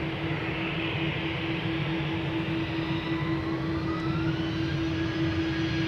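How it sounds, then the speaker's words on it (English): An EasyJet Airbus A320 roars on takeoff at Schiphol's Polderbaan, bound for London Gatwick, a steady loud jet engine drone with a rising whine, heard alone without voices. "A320 EasyJet off to London Gatwick."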